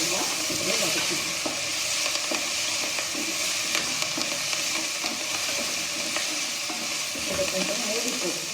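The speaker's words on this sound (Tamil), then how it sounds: "போட்டுட்டு இதெல்லாம் நல்லா இதில் வதக்கிக்கணும்" Coriander and other vada curry ingredients sautéing in a hot pan, a loud, continuous sizzle and hiss with occasional stirring scrapes throughout.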